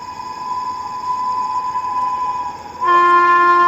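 The Pooja Superfast Express horn blares loud and sustained with steady harmonic tones, growing louder and fuller near the end as it sounds closer.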